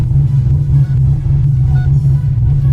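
A 510 wheel-horsepower C6 Corvette with a steady, loud low engine rumble from inside the car, holding a constant drone with no clear climb in revs.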